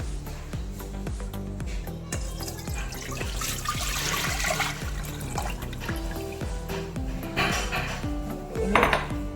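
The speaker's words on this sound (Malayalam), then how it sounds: "ഇത് നമുക്ക് ചൂടാക്കാനായിട്ട് പാനിലേക്ക് ഒഴിക്കാം." Tender coconut water is poured into a pan, a steady liquid splash and trickle with a faint metallic ring from the pan, close and continuous, with no talking.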